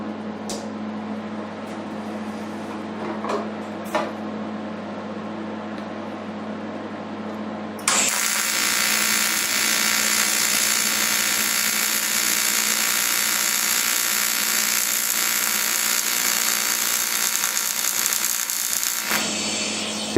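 AC TIG welding of aluminium on an oil catch can part: a steady, loud broadband buzzing hiss starts abruptly, holds evenly for about eleven seconds, then cuts off, with a low mains hum before and after.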